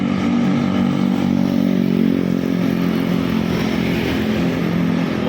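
Simpati Star bus passing fast on a road, a loud close engine roar with a rattling, rumbling drone that stays steady and heavy for several seconds.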